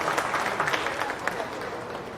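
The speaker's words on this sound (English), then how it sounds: "Give all the exhibitors a nice round of applause on a nice set of Angus heifers." Crowd applause at a county fair beef show, clapping for the exhibitors of a set of Angus heifers, a dense, moderately loud patter that holds steady and fades slightly toward the end.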